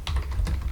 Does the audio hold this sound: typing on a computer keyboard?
yes